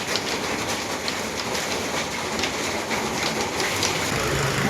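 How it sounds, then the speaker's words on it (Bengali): Heavy rain pours down in a dense, continuous hiss with pattering drops, loud and steady throughout with no voices. "বেরোতে যাচ্ছি কি জোর বৃষ্টি নেমেছে"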